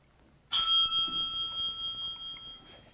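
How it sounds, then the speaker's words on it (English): A single bright bell ring marks the end of a candidate's speaking time at a local televised debate, struck once sharply and leaving a clear sustained ringing tone that slowly fades with no talk over it. "And Marie, you have 60 seconds when the bell rings."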